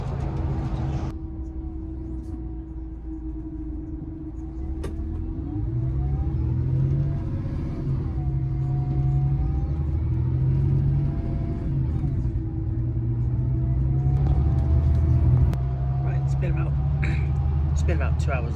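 A coach bus travels along the road toward Dublin, with a steady low engine rumble and road drone from inside the vehicle, rising slightly as it speeds up, while people talk over it.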